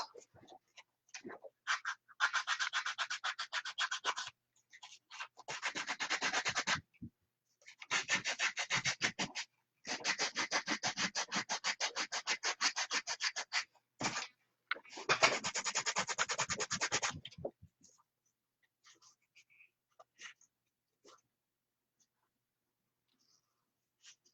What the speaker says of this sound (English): So I'm going to take off the initial diamond pattern with the belt sander.